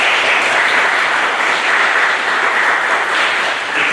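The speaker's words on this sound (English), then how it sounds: "give all of them a round of applause" Sustained round of applause from a ceremony audience at a Veterans Day celebration in East Orange, steady and dense clapping throughout without pause.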